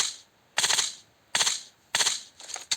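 Three short bursts of automatic gunfire in PUBG Mobile rattle out at a steady interval, crisp and fairly close, followed by a fainter fourth burst.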